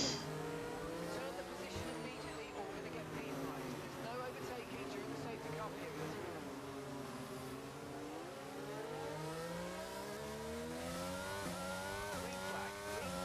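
Race cars start a race in the F1 22 video game, a steady, loud roar of many engines revving and whining together. Someone talks over the engines throughout.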